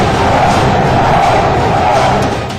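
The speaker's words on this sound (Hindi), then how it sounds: "इधर भीड़ में मोदी की जय जयकार हो रही थी" Dense rally crowd in Delhi chanting and cheering for Prime Minister Narendra Modi, a loud continuous roar of many voices without distinct words.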